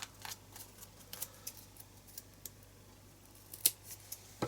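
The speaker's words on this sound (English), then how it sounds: "Let's grab some smaller scissors. I'm just going to create some smaller squares." Small scissors snipping paper into squares, a sequence of quick crisp clicks at an uneven pace, close and fairly faint over a quiet hum.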